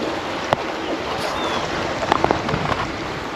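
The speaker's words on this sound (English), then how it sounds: "just the noise of the water flowing is really relaxing" Water flows steadily in an outdoor stream near a bridge and a small pond in Colorado, making a continuous close rushing wash with a few faint clicks and splashes and no voices.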